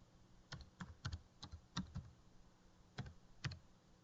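Typing on a computer keyboard while entering Oracle SQL statements, a few quiet, irregular clusters of key clicks separated by short pauses, close by, with no voice.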